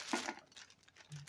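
Thin plastic bag crinkling as a brand-new Harbor Freight HVLP paint gun cup is unpacked, a short close burst of rustles and crackles that then thins out.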